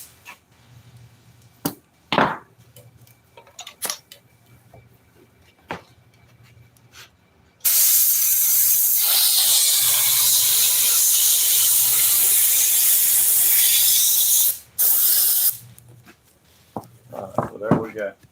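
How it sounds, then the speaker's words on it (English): Glue sprayed from an aerosol can into a crack in a four-wheeler seat: a loud, steady hiss lasting about seven seconds, close by, preceded and followed by handling noises and brief talk. "I'm gonna spray some glue down in that little crack"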